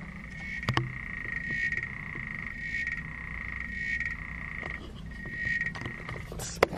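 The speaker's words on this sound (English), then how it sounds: "that is the African clawed frog that I have." A pet African clawed frog croaks indoors in a long, steady train of clicking calls that pauses briefly now and then, moderately loud and close, with no talking over it.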